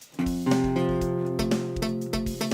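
Strummed guitar barre chords, repeated several times in a steady rhythm, with a string accidentally muted so some strings sound muted and buzzy rather than ringing cleanly.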